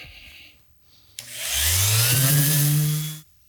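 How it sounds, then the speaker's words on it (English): Power sander fitted with a 120-grit disc spinning up on pine boards, a loud steady whirring drone that rises in pitch at start and holds for about two seconds before cutting off, with quieter room noise before it. "installed a 120 grit sandpaper disc on the sander"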